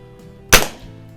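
A single sharp shot from a Feinwerkbau 124 .177 break-barrel pellet rifle, just repaired, fired outdoors: one crisp, fairly loud crack with a quick decaying tail against quiet background hum.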